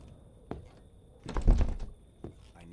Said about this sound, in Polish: Zamknij te drzwi.